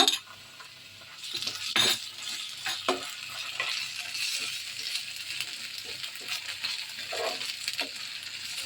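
Ginger garlic paste fries in a pan for mutton pepper fry, sizzling softly under scraping stirs and a few metallic clinks of a spoon against the pan, close and fairly quiet.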